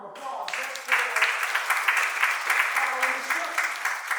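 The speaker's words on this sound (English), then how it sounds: "Y'all give her a round of applause" A church or seminar audience applauding a granddaughter, brisk dense clapping that starts after a short bit of talk and carries on steadily at close range.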